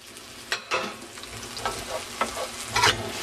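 Habaneros and onions fry in a pan, a close sizzle broken by several sharp bursts of stirring and scraping over about three seconds, with no voices.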